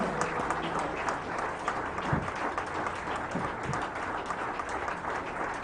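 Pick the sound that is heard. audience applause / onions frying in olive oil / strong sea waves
audience applause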